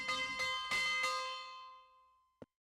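In the Agatha Christie Death on the Nile game, a bell is struck four times in quick succession and its bright ringing tone fades slowly, followed by a short click.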